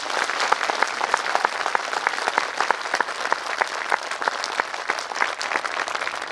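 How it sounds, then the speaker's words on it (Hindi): Applause rises from an audience at a public gathering, many hands clapping in a steady, crisp patter that runs the whole time at moderate distance with no speech on top. "एक जोरदार तालियों के साथ"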